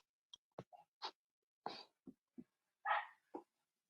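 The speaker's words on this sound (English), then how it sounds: "I hear dogs in the background." A few dogs bark in short separate bursts in the background, some yips sharper and some deeper, spaced irregularly over a few seconds with no talking.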